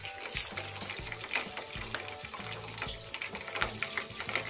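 Chicken katsu frying in reused cooking oil over a reduced flame, a steady close crackling sizzle with irregular pops and bubbling, alone throughout with no talk.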